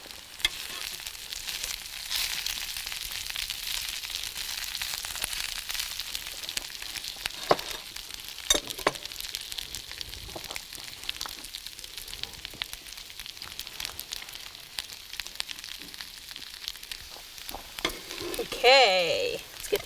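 Bok choy frying in sesame oil in a pan gives a steady crackling sizzle that runs throughout, with a few sharp pops and a brief utensil scrape near the end.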